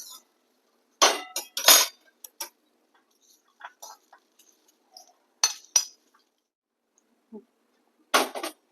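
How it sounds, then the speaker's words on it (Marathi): A metal kadhai (wok) set back down on a home kitchen stove gives sharp clinks and knocks in short scattered clusters, fairly close and alone, with quiet gaps between. "आता तीच कढाई आपण पुन्हा इथे ठेवतोय"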